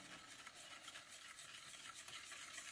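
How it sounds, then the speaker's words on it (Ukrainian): Honey cake cream mixture being stirred after milk is added, a steady soft scraping and swishing with no pauses, close and fairly quiet throughout. "І зараз все перемішаю"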